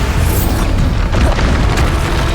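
Bombarda explosion spell in Hogwarts Legacy, a loud, dense, sustained booming blast filling the whole moment at close range, with no voices.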